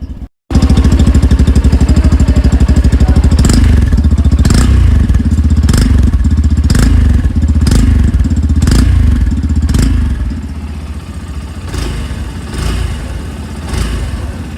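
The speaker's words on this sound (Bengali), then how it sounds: "চলুন এবারের এক্সস্ট সাউন্ডকে একবার শোনা যাক।" A Yamaha FZ-Rave 150cc motorcycle runs loudly close by, its exhaust note rising and falling through a series of sharp revs before settling toward a steadier idle.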